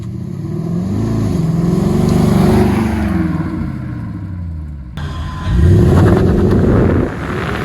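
A Jaguar XK 5.0 Portfolio being rebuilt after a wreck drives over a bumpy road, its engine droning and rising in pitch while the cabin rattles and thumps, with a sharp jolt midway and heavy revving after.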